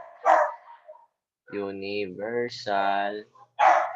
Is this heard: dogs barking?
yes